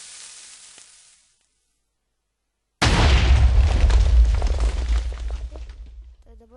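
A cannon explodes in Minecraft, a sudden loud deep boom after a short silence, trailing into a crackling, rumbling decay over several seconds.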